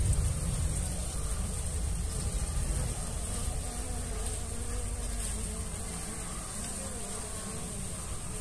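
Honey bees buzz steadily at an open beehive in a colony that had turned drone-laying and is getting a replacement queen, with the dense, continuous hum of many insects close by throughout.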